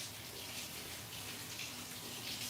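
Hands washed under a running kitchen tap, a soft steady stream of water splashing continuously, fairly quiet with no speech.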